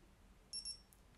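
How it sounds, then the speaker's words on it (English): A brief electronic double beep from a Citizen Eco-Drive Caliber E820 perpetual calendar wristwatch during a zero reset, high-pitched and fairly quiet, sounding twice in quick succession against near silence. "There's your confirmation tone telling you you can reset the position of your hands"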